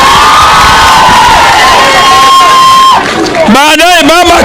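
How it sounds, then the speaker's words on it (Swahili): At the Raila Education Centre school in Kibra, Nairobi, a large crowd including children claps and cheers loudly, with high shouts rising over the applause and excited voices surging near the end. "Makofi kwa baba."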